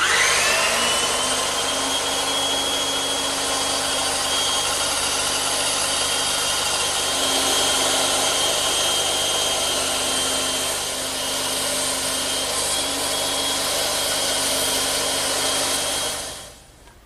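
A power saw runs steadily and loudly as it cuts freehand through costly teak timber without a rip fence, a constant whining drone with a high tone, then winds down at the end.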